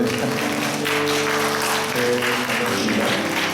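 A church congregation applauds during a Sunday worship service, dense continuous clapping from many people filling the room, steady and fairly loud, with a faint sustained tone underneath.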